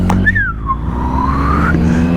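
A Triumph Street Triple R 675 motorcycle gives off a high whistle that dips and then slowly rises in pitch over a steady low engine drone while riding.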